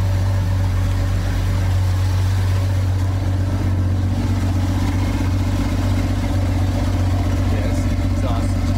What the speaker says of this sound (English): it sounds a little shitty because the exhaust is cut off, but it sounds awesome to hear running again